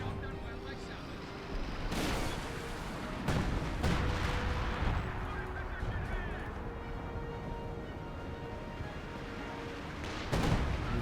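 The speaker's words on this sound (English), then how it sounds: "Concentration barrage being used. Maybe he won't bother with the Sexton, just keep using these barrages." An artillery concentration barrage from the video game Company of Heroes 2: repeated heavy booms and blasts strike at irregular intervals over a constant rumble of battle, while a voice talks throughout.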